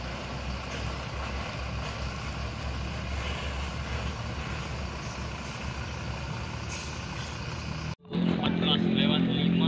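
A blue bus passes close on an Indonesian road, its heavy engine roaring and rumbling loudly without a break before cutting off sharply, then different traffic and engine noise follows.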